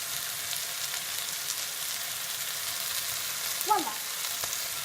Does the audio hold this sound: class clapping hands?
no